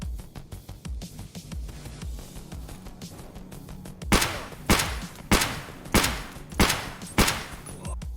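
Six sharp, loud .366 rifle shots strike armor in the Escape From Tarkov video game, evenly spaced after a stretch of low rumbling ambience, each crack followed by a brief decaying tail.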